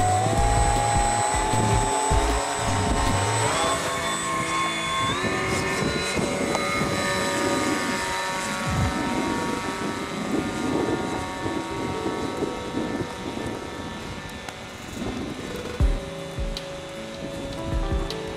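A small electric model aircraft propeller whines steadily overhead, pitch rising and dipping as it flies in windy conditions, with gusty wind rumbling against the microphone throughout.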